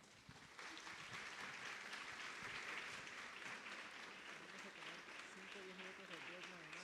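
An audience at a university symposium in Mexico applauds steadily to welcome a speaker, a sustained wash of clapping at moderate distance with faint murmuring voices underneath.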